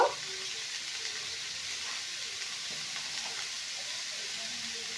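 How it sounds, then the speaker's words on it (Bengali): Frying in a pan makes a soft, continuous sizzle that holds level throughout, with a faint scrape at the very start. "একটু ভালো করে ভেজে নেব"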